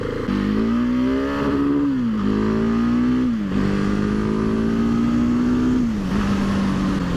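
A Husqvarna 701 Supermoto single-cylinder engine drones loud and close while riding down a country lane, its pitch rising and dropping with each throttle change and gear shift.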